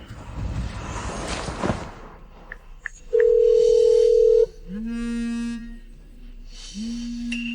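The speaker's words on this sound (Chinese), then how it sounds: "阿宇，你快打电话叫他过来" A telephone call being placed: a steady dial tone gives way to repeated ringback tones, electronic and clear with no talk.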